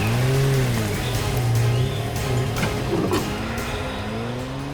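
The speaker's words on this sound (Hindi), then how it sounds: "गाड़ी की आवाज?" A car engine roars steadily through a tense chase on a road, its pitch rising and falling as the vehicle speeds along, loud and close, with a rushing background noise and no talk.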